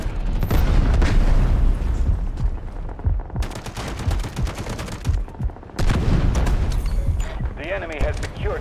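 An artillery barrage in the video game Delta Force: dense, overlapping booms and rapid gunfire crackle in heavy, continuous bursts, with brief lulls between waves of explosions.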